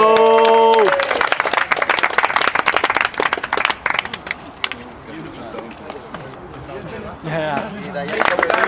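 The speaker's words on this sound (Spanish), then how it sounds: "Ahí aplaude, Taira, tío." Spectators at a BMX street jam in Sabadell break into loud, dense clapping and shouts, which then thins to scattered claps under excited voices and rises again near the end.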